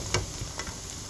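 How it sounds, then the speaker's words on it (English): Onions fry in a pan at home, making a faint, brief sizzle with a few light clicks and scrapes from stirring, all quiet and close. "I'm frying the onions."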